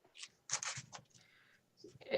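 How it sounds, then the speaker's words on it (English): Papers rustle and slide against each other in short, soft bursts at a public safety committee meeting, faint and close with brief pauses between shuffles. "because I'm shuffling papers around"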